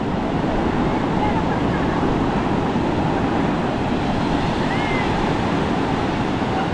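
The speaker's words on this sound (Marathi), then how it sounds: "लाटा बघा कशी आहेत" Ocean surf rolls in steadily at Tarkarli beach, Malvan, a continuous broad wash of breaking waves with some wind noise, fairly loud and close, no one speaking.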